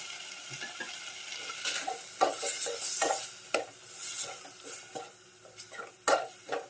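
Ingredients for a Thai orchid-flower curry with pork ribs are stirred and dry-roasted in a pan, faint frying hiss under repeated scraping and clinking strokes of the utensil, close and irregular, no talking.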